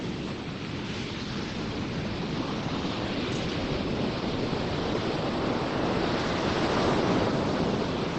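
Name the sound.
waves drawing back over pebbles on beach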